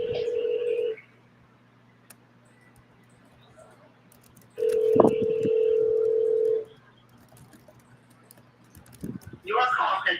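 Telephone tones sound in long steady beeps separated by quiet gaps, like a call being placed on a phone, loud and close with brief noises in between.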